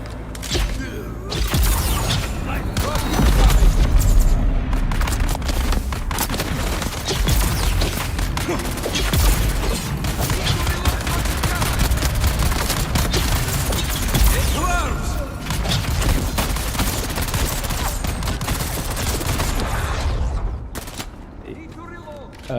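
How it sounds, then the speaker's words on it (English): Rapid volleys of missile wand fire from elite guards in a survival video game set on Arrakis, loud sustained crackling bursts and booms filling the scene, with a voice talking over the barrage and a brief drop near the end. "Morgana has summoned her elite guards, and they are armed with the missile wands"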